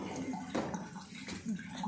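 Tap water runs steadily while hands are washed, with voices talking over the flow.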